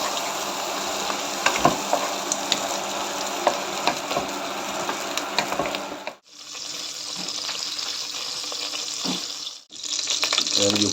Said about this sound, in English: And the sausage in the fry pan.